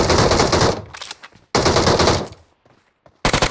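Automatic gunfire in the shooter game PUBG Mobile: three loud, rapid bursts close by, separated by short gaps of quieter noise.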